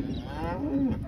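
A single drawn-out low moo from Angus cattle, part of a group of cows and calves with F1 Wagyu-cross calves at foot, rises then slides down in pitch over about a second against a murmuring background.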